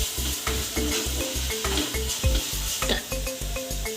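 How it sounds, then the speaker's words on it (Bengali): A spatula stirs fish masala with turmeric and chili powder in a pan, making a regular rhythm of about two scraping strokes per second over a low frying sizzle, close and with no talking. "হলুদ গুঁড়ো দিয়েছি, লঙ্কা গুঁড়ো দিয়ে নাড়বো।"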